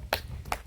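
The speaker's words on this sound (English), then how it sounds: "So we clap like this to get them to come." Two sharp hand claps made to call puppies to come, spaced about half a second apart, close and crisp against a quiet room.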